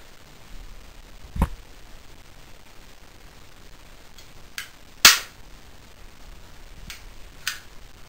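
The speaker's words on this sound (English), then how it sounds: "It is a staple gun, and it is used to fire staples at extremely high velocities in random directions whenever you want." A staple gun fires staples in a few sharp, isolated cracks spread across a quiet room, with one much louder snap midway and fainter clicks around it, no talking.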